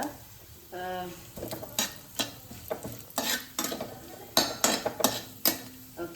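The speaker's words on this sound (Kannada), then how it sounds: "ಇದು ಚೆಂದ ಫ್ರೈ ಆಗಲಿ ತುಪ್ಪದಲ್ಲಿ." Crushed rice frying in ghee in a pan for rice laddu, an ongoing sizzle broken by repeated clinks and scrapes of a utensil stirring against the pan, with brief murmurs of voice.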